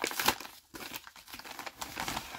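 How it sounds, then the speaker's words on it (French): A paper envelope is torn and opened by hand, giving a series of close crinkling, rustling and tearing sounds with brief pauses between them, quiet and with no voices. "je vais ouvrir le dernier courrier"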